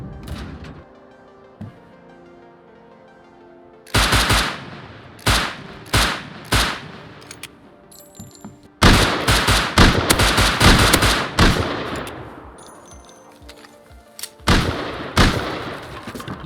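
Gunfire in the survival game Rust: loud, close bursts of shots in clusters, with rapid automatic volleys between about 9 and 12 seconds and isolated single cracks, over a quiet background with no talking.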